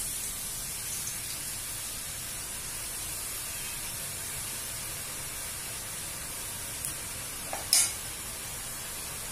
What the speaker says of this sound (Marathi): चुरा छानपैकी ब्राऊन कलरचा होईपर्यंत आपण तळून घेऊ